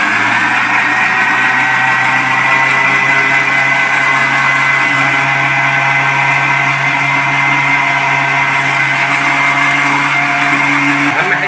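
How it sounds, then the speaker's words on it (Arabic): Electric kitchen blender runs steadily and loudly, whirring through a cheap eggless, milkless cake batter made with flour and oil, with a constant droning hum that does not change from start to finish. "هنشغل بقى الخلاط كده واحده واحده"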